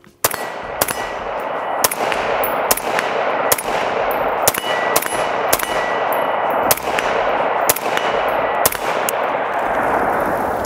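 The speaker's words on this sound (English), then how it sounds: "So the CZ Bren 2, we've got this guy out here. Let's go ahead and let's just shoot it." A CZ Bren 2 rifle loaded with Lancer magazines is fired outdoors in a steady string of about a dozen sharp, loud shots at regular intervals, each followed by a metallic ring over a continuous roar.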